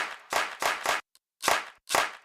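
A clap drum sample plays as a series of sharp, loud, dry hits. Three quick hits come close together, then a brief silence, then two more spaced hits, with no voices.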